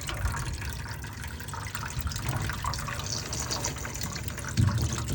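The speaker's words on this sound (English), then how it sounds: "So whatever water's in the pump or tub is going to be coming out." Water gushing steadily out of the drain pump and tub of a GE washing machine that would not drain, a close continuous splashing pour with a slight surge near the end.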